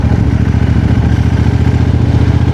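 Motorcycle cruising at a steady town speed of around 60 km/h, its engine droning loud and constant with a rhythmic mid-range pulse and wind rush, heard up close from the rider's position.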